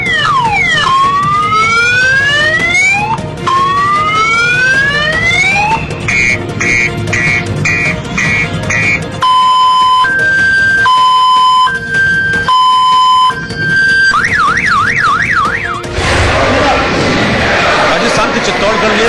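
A car security alarm cycles loudly through its patterns: rising whoops, rapid repeated chirps, two-tone alternating beeps and a fast warble, close and continuous with a brief noisy stretch at the end.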